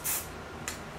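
Amika hairspray hisses onto hair in two short close bursts, the first stronger and the second briefer.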